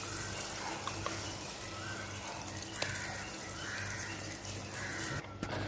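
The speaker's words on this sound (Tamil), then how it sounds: "இந்த மட்டன் கழுவின தண்ணி எல்லாத்தையும் இதில் எப்படி ஊற்றிடுங்க" Water from washing mutton is poured into a cooking pot, a continuous, fairly even liquid pour heard close up without speech, ending with a brief dip near the end.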